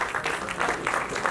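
Audience applause at a film trailer launch event greets the music director coming on stage, a short burst of steady clapping from a crowd.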